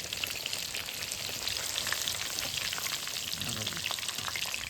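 Pomfret fish bhajiya fry in hot oil with a dense, continuous crackling sizzle that stays steady and close throughout, with no voices over it.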